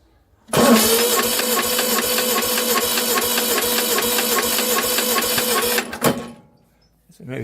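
A 1954 Yazoo 60-inch riding mower's small engine catches and runs loud and steady with a rhythmic chugging for about five seconds, then cuts off abruptly, leaving near silence.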